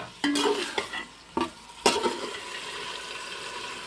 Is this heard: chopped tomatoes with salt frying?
yes